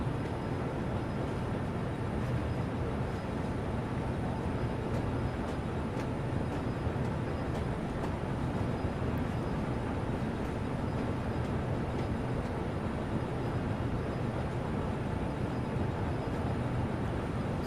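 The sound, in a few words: class 66 locomotive engine sound in Train Sim World 3 video game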